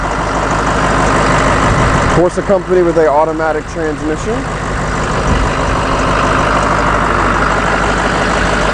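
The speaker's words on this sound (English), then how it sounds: "this is powered by the Ford Powerstroke 6-liter diesel engine" Steady, loud idle of a Ford Powerstroke 6.0-liter diesel engine in a 2010 Ford Girardin Type-A school bus, continuous low rumble with someone talking over it for a couple of seconds.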